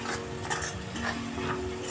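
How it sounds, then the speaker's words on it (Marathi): Vegetables frying in a pan with chili powder, turmeric and salt for idli fry, giving a continuous close sizzle broken by brisk stirring scrapes, with no voices. "आता आपण चांगलं फ्राय करून घेणार आहोत"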